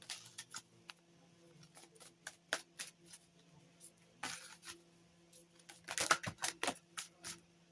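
Druidcraft tarot cards being handled and shuffled, giving soft scattered clicks and riffling snaps that build into a denser flurry near the end, quiet and close with no talking.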